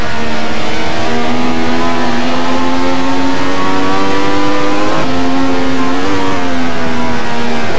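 Ferrari 312T race car engines screaming in a racing video game at Zandvoort, a loud steady high-revving drone with harmonics rising slowly, a brief dip and shift near the end, continuous with no talk.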